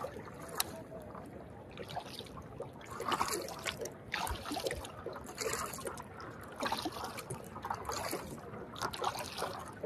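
Small waves lap and trickle against a surfboard on Phewa Lake in Pokhara. The watery splashes are soft and irregular, close by but faint.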